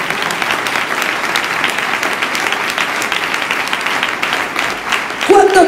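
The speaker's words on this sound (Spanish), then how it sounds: "Denle un aplauso al Señor." A congregation-style audience at an evening gathering for young people claps in a dense, sustained burst of applause, loud and continuous, with a brief sound near the end.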